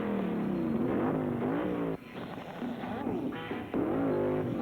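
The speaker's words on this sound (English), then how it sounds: "Benny's keeping those revs up." A NASCAR race car engine at the 1994 Winston Select 500 revs hard during a pit stop, loud and sustained with rising and falling pitch and a brief dip in the middle before surging again.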